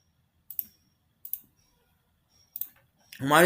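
Three crisp, isolated mouse clicks spaced about a second apart while applying Smooth Distortion in CorelDRAW 2021, close and clear in a quiet room, followed at the end by the onset of a voice.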